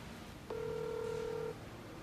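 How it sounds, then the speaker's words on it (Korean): A single steady electronic tone sounds for about a second after faint background noise, like a ringback or beep on a call that goes unanswered. "안 받아 연결이 되지 않아 삐소리 후"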